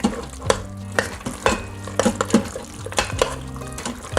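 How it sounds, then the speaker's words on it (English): A spoon scraping and stirring sour cream through ground beef stroganoff in an Instant Pot, with wet squelching and soft sizzling, close and steady in repeated strokes and no talk. "Stir that through."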